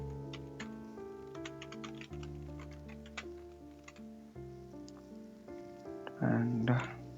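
Keys on a computer keyboard are tapped in a light, irregular patter of clicks over a steady tonal background hum, with a brief louder sound near the end.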